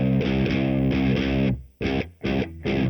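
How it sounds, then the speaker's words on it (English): Heavily distorted electric guitar through a Boss Katana Gen 3 amp with its booster on: a loud sustained chord, then three short chugging stabs separated by brief silences. "We're going to turn the booster off so you can hear it better."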